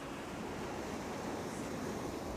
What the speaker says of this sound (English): She's noticed the waves.